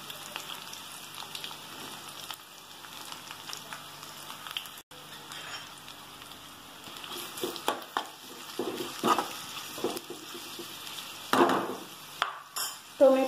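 Onions and green chillies fry in a pan for an egg sabji, with a steady low sizzle and intermittent stirring scrapes that grow busier and louder toward the end, no voices.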